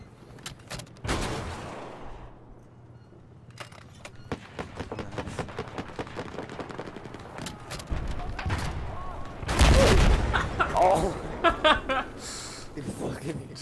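Battlefield 4 gunfire rattling in sharp, evenly spaced shots at close range, building into a heavy burst of loud blasts and explosions midway, with voices talking over the action.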